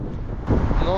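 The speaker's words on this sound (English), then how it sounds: "The wind's probably terrible" Wind gusting across a bridge high above Sydney, a steady low rumbling roar that swells louder midway through and buffets the microphone close up.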